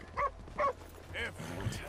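Dogs in the video game Red Dead Redemption 2 bark aggressively in several sharp nearby yaps during an attack, followed by a whimpering yelp, with someone talking faintly underneath.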